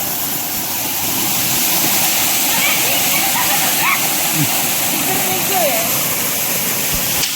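A waterfall in a scenic natural setting pours in a steady, full broadband roar that stays constant from start to finish, with a few faint higher sounds drifting over the rush of water.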